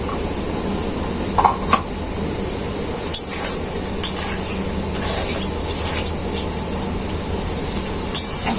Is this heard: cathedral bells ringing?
no